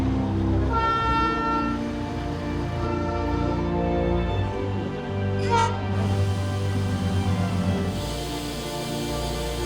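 The Darjeeling toy train rolls past with a loud, steady mechanical rumble and clatter, sounding a series of short horn toots partway through, close by and with no voices.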